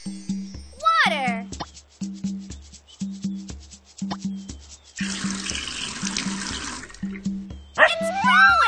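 Water pours in the Dora's Magical Garden kids' video game, a bright splashing stream lasting a few seconds amid a bouncy game tune with chirpy sound effects.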